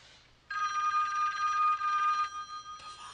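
An old-style telephone bell rings in a single sustained burst of about two seconds, then starts again briefly, in a scene from the 1984 horror film A Nightmare on Elm Street, fairly quiet with no talk.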